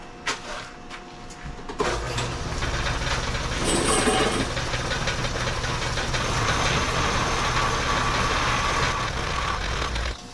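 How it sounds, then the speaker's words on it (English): A big angle grinder cuts into a steel tie-rod on an MF40 tractor backhoe, spinning up after a few clunks and then holding a loud, steady grinding whine close by for several seconds. "I think I'm just going to use the big grinder to grind this off."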